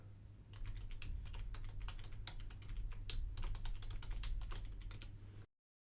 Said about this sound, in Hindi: यहाँ से मैं टाइप करूँगा एडमिनिस्ट्रेटर